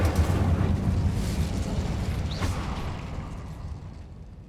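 An Incendio fire spell cast in Hogwarts Legacy, a dense rushing roar of flame with a low rumbling boom that gradually fades out, loud and continuous without speech.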